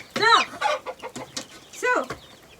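Hens cluck close by in a poultry coop, a few sharp, uneven bursts of clucking separated by short pauses.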